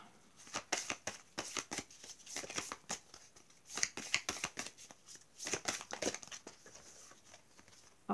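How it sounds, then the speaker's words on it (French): Oracle message cards being shuffled and drawn by hand, a quiet irregular series of soft flicks and riffles with small pauses, close and faint with no talking. "je vais tirer 3 cartes de message de ton âme"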